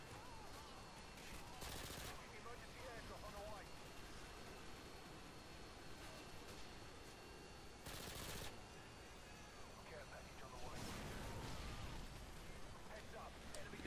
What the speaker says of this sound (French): Donc la MP5SD, sans doute la mitraillette avec le plus de cadence du jeu. Silencieuse de base.